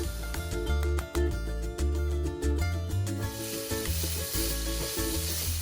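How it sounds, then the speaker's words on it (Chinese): Minced pork with southwest mixed spice sizzles loudly in a hot pan while being stir-fried, with rhythmic scraping and tossing strokes over a constant frying hiss. "翻炒3到4分钟。"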